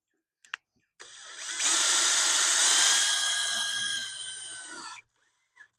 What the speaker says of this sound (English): You just want to be in full control when you're screwing the screws.